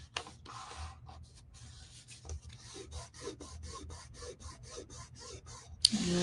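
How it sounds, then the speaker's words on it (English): Paper scraps being pressed and rubbed down onto a paper pocket make a quick run of dry, raspy scraping strokes in a steady rhythm, close and fairly faint, with no talking. "And just kind of press down and rub."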